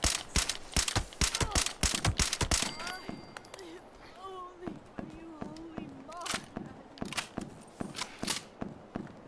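Rapid bursts of gunfire aimed at a cultist in the video game Fallout 76, loud repeated shots in clusters at the start and end, with a quieter stretch in the middle where a voice talks.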